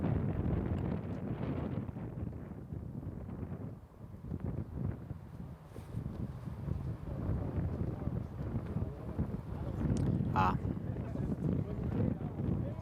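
Gusty wind buffets the microphone on a disc golf course at the Portland Open, a low, rolling rumble that swells and eases under steady commentary voices.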